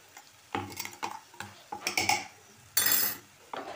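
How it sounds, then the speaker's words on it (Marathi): A spoon stirs chicken kheema in tomato gravy in a pan, giving irregular metallic scrapes and clinks against the pan with quiet pauses between strokes. The sounds are close and there is no speech. "तसं ढवळत राहायचं आहे, ग्रेव्ही चांगली मिक्स होऊन द्यायची"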